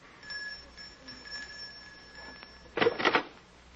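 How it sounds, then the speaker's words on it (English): A doorbell in a 1940s radio crime drama rings in a short, loud burst of two rapid electric rings after a quiet room tone with a faint steady hum. "Just ring the bell."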